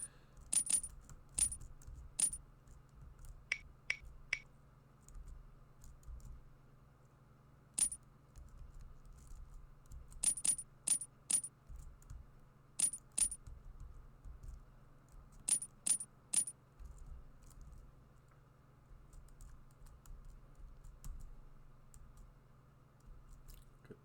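Short bright electronic pickup blips from collecting coins in the video game World's Hardest Game 4, arriving in quick clusters of three or four over a steady low background hum, fairly faint.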